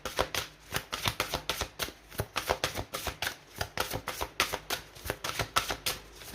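Gaia oracle cards being shuffled by hand, a quick rhythmic series of crisp papery riffles and slaps, close and fairly soft, repeating steadily without talk.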